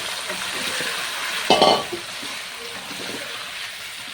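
Chicken pieces drop into a pan of cooked-down onion and poppy-seed paste for chicken posto, giving a sudden louder burst of sizzling and frying over a steady hiss, which then settles back into a quieter simmer.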